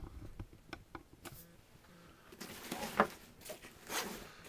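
Large covered zippers on a Spec-Ops T.H.E. tactical backpack are pulled open in quick rasping runs, close and fairly quiet, mixed with fabric handling rustles and small clicks.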